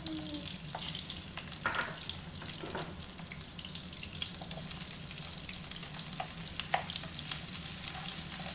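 Egg sautéing with bitter gourd in oil in a wok, with garlic added, giving a steady close sizzle and frying hiss with occasional clinks and scrapes of stirring; no one speaks.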